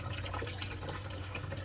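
Tap water flows through a solenoid valve into a twin-tub washing machine, a faint steady rushing and trickling fill with a low hum beneath, continuous and unbroken.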